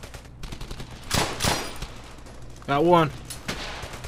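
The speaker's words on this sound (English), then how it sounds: "I'm gonna shoot the fuck out of him." Gunfire in the World War II shooter Brothers In Arms: Hell's Highway, with a couple of loud close rifle bursts, a distinct whizzing projectile or ricochet tone, and a brief voice speaking over the action.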